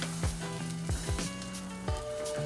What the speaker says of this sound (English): See, the rubber spatula is also good because it picks up all the egg pieces that are cooking on the sides.